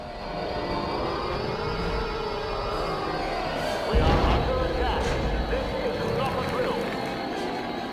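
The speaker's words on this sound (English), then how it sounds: "Take out that bomber!" Imperial bomber craft in Star Wars Battlefront II (2005) roaring through a space battle, a dense continuous engine whine with a loud blast-like surge midway, mixed with combat noise and voices.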